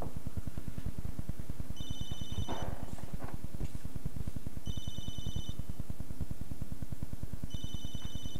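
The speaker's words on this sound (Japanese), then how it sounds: "なんか鳴ってる。 なんか鳴ってるよ。 お宅の電話じゃないのか。" A telephone rings in three short electronic bursts spaced about three seconds apart, over a steady, fast ticking pulse that runs underneath throughout.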